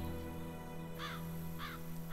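Crows cawing near a deer carcass: two distinct harsh caws about half a second apart, clear and fairly close over a steady tonal background.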